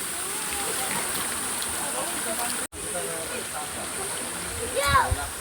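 Water flowing at a hot spring, a continuous soft hiss and rush at moderate distance, with people talking over it and a brief dropout midway.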